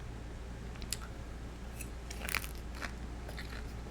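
Karaage Japanese fried chicken being bitten and chewed, several crisp crunches and crackles close to the mic over a quiet background, with no talking.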